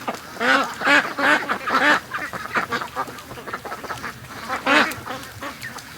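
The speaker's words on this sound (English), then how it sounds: "Just a duck train out." Ducks quack repeatedly in a loud, busy chorus, overlapping calls close by with brief pauses between bursts.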